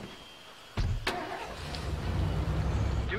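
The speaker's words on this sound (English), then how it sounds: "cars make noise" A car engine in the State of Decay 2 video game, a sudden ignition-like burst followed by a steady low rumble, fairly quiet and alone.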